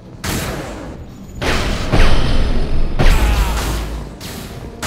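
Rifle gunfire in the video game Mass Effect 2, with loud, booming shots landing in bursts that stand out above a steady rumble of combat noise.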